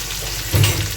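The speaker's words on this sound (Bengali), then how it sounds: "ভাজা বসিয়ে দিয়েছি কলাগুলো ভাজা হোক" Raw banana slices, rinsed after a turmeric coating, frying in hot oil give a steady close sizzle that swells briefly midway, with no talking.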